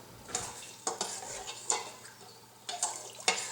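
A spoon stirs steel cut oats with vanilla extract inside an Instant Pot's metal inner pot, giving several distinct scraping clinks against the steel at an irregular rhythm, close and clear with no voices.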